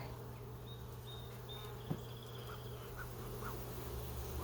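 Agitated honeybees at a hive in early spring drone in a steady close buzz, with a few higher individual bee whines darting in and out over a low constant hum.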